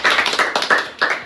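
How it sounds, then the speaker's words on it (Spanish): A few people clap briefly for graduates of a social-care training course, sharp separate claps in an uneven rhythm, close and fairly loud for about a second. "Un aplauso para ellas."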